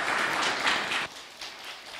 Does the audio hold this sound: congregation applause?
yes